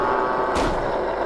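A single loud gunshot in the horror game Chased By Darkness cracks out partway through, over a dense, rumbling game ambience with no speech.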